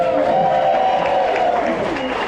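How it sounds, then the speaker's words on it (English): A live concert audience at The Ark roars and applauds in a steady, dense wash of crowd noise that holds at full strength for the whole stretch, with tonal voices mixed into the din. "I want more applause."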